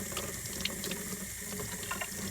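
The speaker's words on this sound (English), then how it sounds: "So I'm going to rinse it in the sink" Garden clippers rinsed under a running sink tap, a steady hiss of flowing water with faint splashes and small metallic clicks, fairly quiet and continuous.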